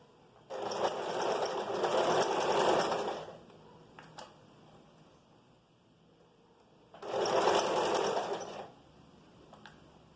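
A sewing machine stitches a vest in two steady bursts, one about three seconds and a shorter one later, separated by a quiet pause with a couple of faint clicks.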